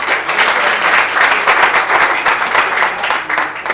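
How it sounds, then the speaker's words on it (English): Loud, dense applause from an audience fills a pre-match press conference for the Hearts and Kotoko football clubs, steady clapping sustained throughout with no break. "Let's clap for her, please."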